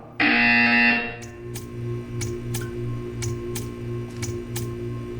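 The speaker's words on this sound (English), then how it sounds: "You will hear a buzzer. When you hear the buzzer, stare at the art." A loud electronic buzzer in the video game Portal 2 blares for about a second, then a steady faint hum continues with sharp ticking clicks at irregular intervals.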